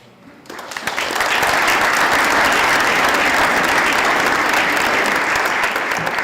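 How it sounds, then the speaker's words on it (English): Audience applause at a board of education meeting, starting after a brief quiet moment and swelling into loud, sustained clapping that holds steady to the end. "Big round of applause for Ariel."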